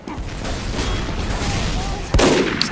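Gunfire from a sniper match in Team Fortress 2, a steady layered wash of game noise broken near the end by one loud, sharp shot.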